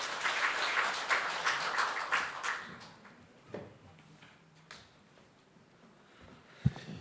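An audience at a seminar on women's startup policy applauds to welcome a speaker, a dense burst of clapping for about three seconds that fades into quiet room noise with a few faint knocks.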